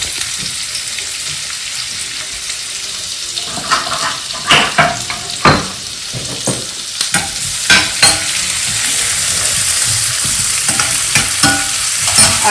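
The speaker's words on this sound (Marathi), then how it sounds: "ब्राऊन फ्राय करायचा आहे त्याच्यानंतर हा कांदा टाकते मी" Chopped onion sizzles in a pan of oil after browned garlic, a loud close hiss punctuated by a run of sharp scraping and knocking stir strokes in the middle, with no one speaking.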